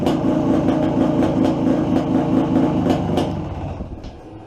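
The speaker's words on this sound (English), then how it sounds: "She starts right up." A 2000 Polaris Scrambler 400cc ATV engine fires up right away after a starter repair and runs with a steady, loud rumbling idle that fades slightly at the end.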